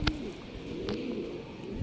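Homing pigeons are back at the loft after a two-hour training flight, letting out soft, low, rolling coos that carry on steadily and close by, with a couple of faint clicks and no talking.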